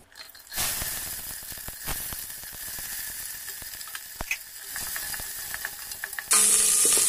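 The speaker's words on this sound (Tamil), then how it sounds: "வெங்காயம் கொஞ்சம் நல்லா வதங்கணும்." Small onions sizzling steadily in a hot pan for Chettinad mutton curry, along with bay leaf, cinnamon and clove, with occasional stirring clicks and a brief louder burst near the end.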